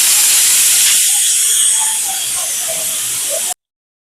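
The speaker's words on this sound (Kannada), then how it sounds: "1 ವಿಷಲ್ ಕೂಗಿಸ್ಕೊಳ್ತೀನಿ." A pressure cooker making mutton sambar vents steam in a loud, close, sustained hiss with a wavering whistle that then cuts off abruptly.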